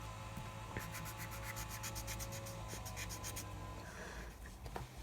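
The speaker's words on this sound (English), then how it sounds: "Use the lighter brown pencil to go over the hammer," A brown colored pencil shading a drawing on paper, with fast, steady back-and-forth scratchy strokes in a rapid rhythm, close and continuous over a low background hum.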